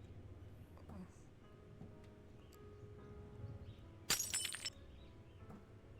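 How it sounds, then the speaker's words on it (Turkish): A sudden sharp crash of something breaking, like shattering glass, rings out in the horror game Fears to Fathom inside a house at night, a brief loud burst over a low droning background. "Kırılma sesi korktum bir an"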